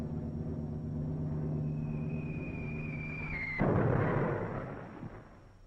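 Incendiary and demolition bombs in a 1943 wartime film: a falling whistle descends over a low drone, then a single loud, rumbling explosion bursts and slowly fades away.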